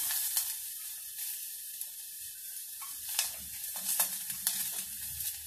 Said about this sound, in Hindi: मैंने वो रिफाइंड ऑयल डाले हैं, इसमें प्याज डाल दिया हमने